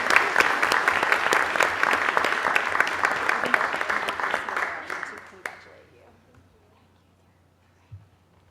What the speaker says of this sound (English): We can applaud her even though.